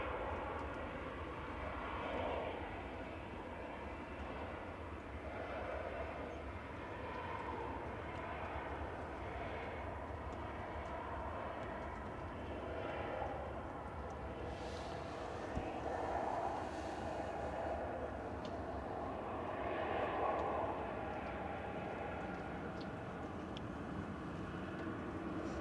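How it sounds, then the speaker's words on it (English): A Ryanair jet arriving from Gothenburg touches down at Manchester Airport, its engine roar a steady, moderately distant rumble that swells slightly through the landing roll, with no talk over it. "Ryanair from Gothenburg just touching down EIDWE with flight 3089."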